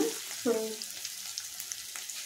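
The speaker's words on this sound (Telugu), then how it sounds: "ఆనియన్స్ బాగా వేగాలి." Onions frying in a pan for a mutton and raw mango curry give off a steady soft sizzle, with a brief scrape or stir near the start and low, even hissing after that.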